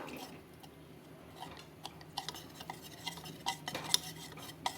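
Soft wet stirring and spoon clinks as custard powder is dissolved into milk in a tumbler, quiet and close with irregular light taps against the glass.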